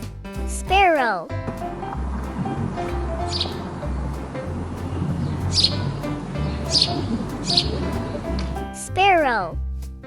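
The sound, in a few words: sparrow chirping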